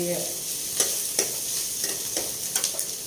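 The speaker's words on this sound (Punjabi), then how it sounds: "ਹੁਣ ਇਹ ਸੋਟੇ ਹੋ ਗਿਆ ਪਿੰਕ ਕਲਰ ਦੇ ਹੋ ਗਏ ਪਿਆਜ਼" Onions sauté in a pan for ghiya tori sabzi, a soft continuous sizzle broken by several sharp spatula scrapes and taps at irregular intervals.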